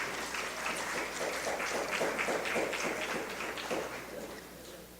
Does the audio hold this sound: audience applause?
yes